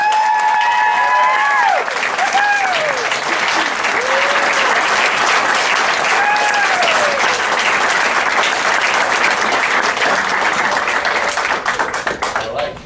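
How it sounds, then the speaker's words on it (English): Guests at a martial arts school graduation ceremony give a long round of applause. A few rising cheers and whoops come early, then dense, sustained clapping fills the room before trailing off at the end. "Let's give her a round of applause"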